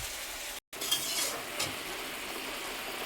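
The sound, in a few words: jaggery chutney cooking and stirring in a pan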